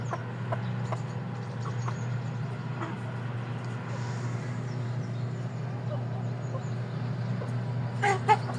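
Backyard hens and roosters, including Jersey Giants, cluck softly here and there over a steady low hum, with a few sharper calls near the end; a voice talks faintly at times.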